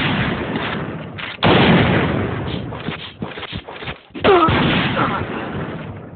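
Gunfire in the video game Point Blank, sharp close shots and bursts coming in uneven bunches with short gaps between them.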